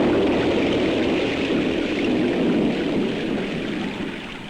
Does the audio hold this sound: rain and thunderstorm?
yes